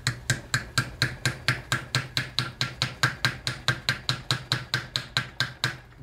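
A hammer taps a part into a Ford tractor starter during a rebuild, about twenty-four sharp, evenly spaced metallic strikes in a steady rhythm, loud and close with no talking.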